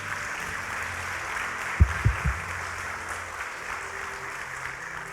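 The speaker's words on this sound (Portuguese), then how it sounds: "Pode aplaudir a Jesus." A church congregation applauds during a sermon, steady dense clapping throughout with a few louder thumps near the middle and faint voices underneath.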